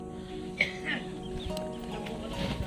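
Chickens cluck softly in short bursts amid background farmyard noise and faint voices.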